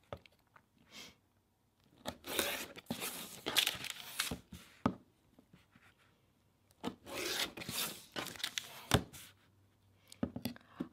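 A rotary cutter run along a ruler trims the edges of a foundation paper-pieced fabric tree block, giving short bursts of crisp scraping strokes separated by quiet pauses, close and fairly soft.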